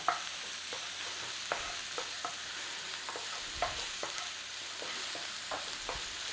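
Garlic and onion fry in a pan, seasoned with salt and pepper, while a utensil stirs them in scattered scraping strokes over a soft, steady sizzle. The sound is close but fairly quiet.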